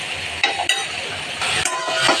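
Food being stirred in a cooking pot, with a soft scraping, a few sharp clinks of the utensil against the pot and light sizzling in the background, close and moderately loud, with no talk.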